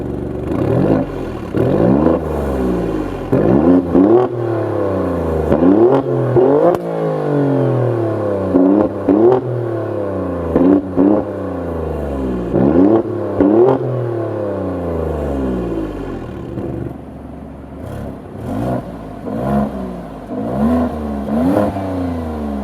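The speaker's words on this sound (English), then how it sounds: "we'll go ahead and rev it just in a second" A 505-horsepower 2018 Alfa Romeo Stelvio Quadrifoglio revs repeatedly from standstill, each loud blip of the engine rising and falling in quick succession, with a short pause midway before another burst of sharp revs.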